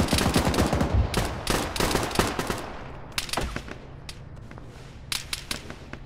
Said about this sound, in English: Still taking fire.